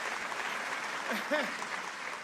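Audience applause at a motivational speech, a steady wash of clapping with a voice briefly cutting through partway.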